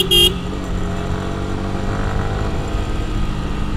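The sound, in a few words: motorcycle horn honking from behind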